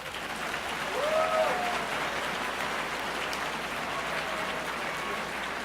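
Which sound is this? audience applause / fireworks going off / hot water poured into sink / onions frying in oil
audience applause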